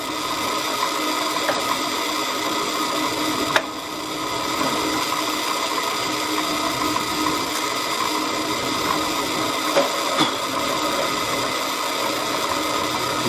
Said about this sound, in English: Now we're going to drill the top side.